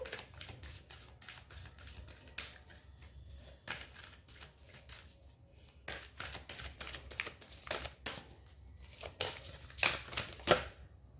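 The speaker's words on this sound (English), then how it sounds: "let me pull out some oracle cards for you" A deck of oracle cards is shuffled up close in quick, papery riffling bursts separated by short pauses, soft and intimate with a few sharper flicks near the end.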